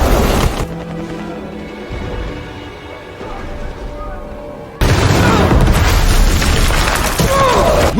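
A grenade blast from the Halo TV series erupts midway as a sudden loud broadband boom, followed by dense, sustained rumble and crackling debris, cutting in after a quieter stretch of tonal score.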